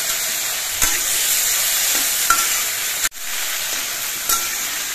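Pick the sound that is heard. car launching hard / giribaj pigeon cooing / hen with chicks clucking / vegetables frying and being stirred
vegetables frying and being stirred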